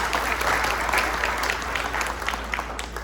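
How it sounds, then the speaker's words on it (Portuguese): Steady, lively clapping from an audience at a community event celebrating a large physiotherapy centre, filling the whole stretch at an even, fairly close level. "Uma salva de palmas, pessoal."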